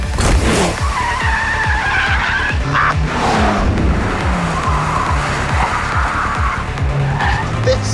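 Electric Porsche sliding on a wet track in a tire-smoking skid, long loud tire squeal rising and falling with a steady motor whine and pulsing rumble, close and continuous for eight seconds.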